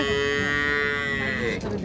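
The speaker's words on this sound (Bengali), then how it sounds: "গরু বিশাল" A dairy cow at a cattle market lets out one long, loud, close moo that holds steady for nearly two seconds before tapering off.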